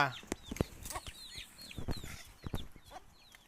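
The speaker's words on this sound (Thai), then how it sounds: "ไก่มันไข่นะตรงเนี้ย ไก่มันไข่ อย่าไปกวนมัน" Several chickens cluck near and far on a small farm, with short overlapping calls in irregular bursts and a brief, faint voice in the background.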